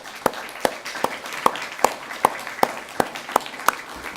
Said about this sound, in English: I really want to give them a round of applause.